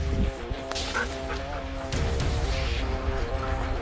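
A police special operations sniffer dog barks during a search, several short yips and barks in quick succession over noisy outdoor background, with some indistinct human voices.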